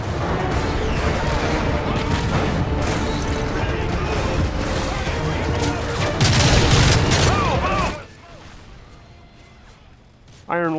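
Heavy Call of Duty gunfire as enemy soldiers shoot from fortified positions at the White House in a video game battle, dense continuous rattling shots and booming blasts that cut out near the end, with a narrator talking over it.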